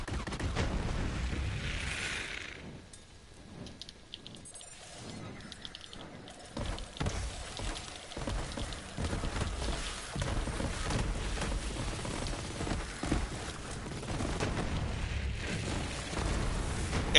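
Grenade explosions and gunfire from the Borderlands 3 video game, a dense run of booms and bursts across the whole stretch, loud and continuous with a brief lull early on.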